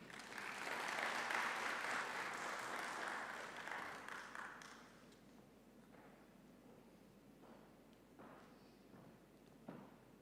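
Conference audience applauding as a co-host is invited on stage, a dense burst of clapping for about five seconds that fades out into a quiet room.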